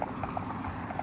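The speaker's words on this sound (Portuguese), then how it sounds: "É um cavalo manga larga." Hooves of a Mangalarga mare or horse clip-clopping at a horse and animal fair, quick close hoofbeats in a brisk rhythm over a low crowd murmur.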